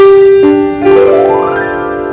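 Piano notes ring out with the damper pedal raised, loud and close, with fresh tones struck over the sustained sound so that rich overtones keep ringing and overlapping without being cut off.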